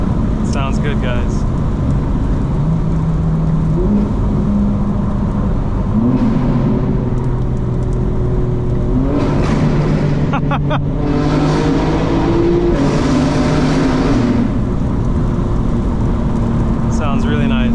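A 2025 BMW M4 Competition xDrive engine drones loudly from inside the cabin on a night drive, its pitch climbing and falling through repeated upshifts and throttle pulls, with occasional talk over the steady road roar.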